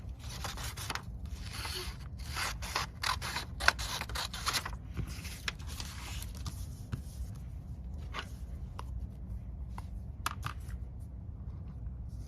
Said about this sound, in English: I'm going to trim this down a little bit.